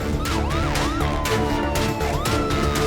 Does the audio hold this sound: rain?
no